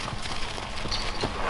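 Horse hooves trotting, a quick steady clip-clop of footfalls on the ground, close and fairly loud, with no speech over it.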